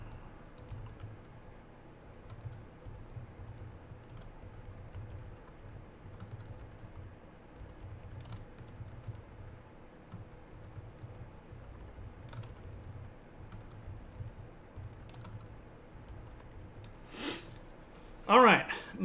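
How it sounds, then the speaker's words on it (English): Clicky computer keyboard typing runs steadily at low level through a quiet room, with a brief louder burst of talking near the end. "what are you typing all of these people's names for, Shane?"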